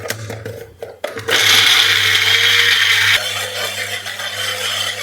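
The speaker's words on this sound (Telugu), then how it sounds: "ఇప్పుడు ఇది వాటర్ ఏం యాడ్ చేసుకోకుండా మిక్సీకి వేసుకుందాం" Mixer grinder blending watermelon with ginger and mint, no water added: a loud steady whirring grind that starts abruptly after a few clicks and then drops slightly in pitch as the mix loosens.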